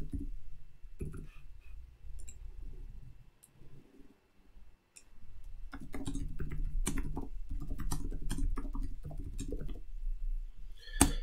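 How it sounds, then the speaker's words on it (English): Close, irregular clatter of keys on a computer keyboard, brief pause midway, then a busier, steady stretch of typing with no voices. "my typing's really not going well today."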